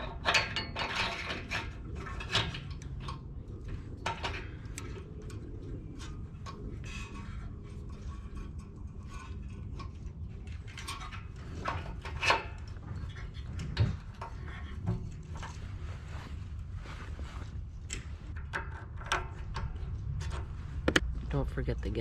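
Metallic clicks, taps and light clanks from fitting a carburetor onto a small engine after its fuel tank was drained, irregular and close, over a low background rumble with a voice heard at times.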